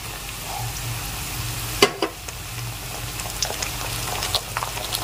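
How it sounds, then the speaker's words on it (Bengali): Ginger garlic paste hits browned onions in a hot pan, giving a steady frying sizzle with a sharp clatter of a spoon or added ingredient partway through and small crackles after. "এবার আমি এর মধ্যে দিয়ে দিচ্ছি আদা রসুনের পেস্ট"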